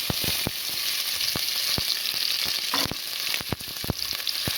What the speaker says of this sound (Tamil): பெரிய வெங்காயத்தை ஒரு கை போட்டுக்கோங்க.